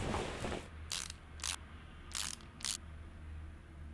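Bolt being ratcheted in while fitting a shock absorber in Car Mechanic Simulator 2018: four short, crisp ratchet bursts in an even rhythm over a low engine-like hum.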